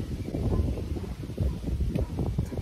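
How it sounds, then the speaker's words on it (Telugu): A cool breeze blows outdoors among trees, giving continuous gusty wind rumble and buffeting against the microphone, with faint rustling throughout. "మీకు కూడా వినిపిస్తున్నట్లయితే అలా చల్ల గాలి"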